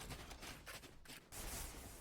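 Gunfire in a Valorant match, a dense burst of rapid shots that cuts off briefly before another loud stretch of fire resumes, no voices over it.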